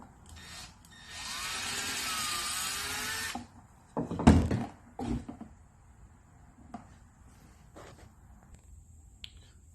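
A power drill whirs in one sustained burst, boring holes through a Crossfire C7 18-inch subwoofer being reconed so a trim ring can be fitted. A few sharp knocks and thumps follow, then quiet.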